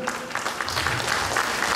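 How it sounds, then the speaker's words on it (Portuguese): An audience of seniors at a Buddhist community song-contest show applauds, a steady wash of many hands clapping at moderate volume, fairly close, with no voices on top. "os homens podem aplaudir também"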